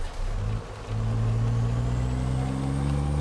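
Heavy truck in the American Truck Simulator game braking hard, a steady loud engine drone with a brief dip and then a strong sustained low hum as the brakes engage, no talking.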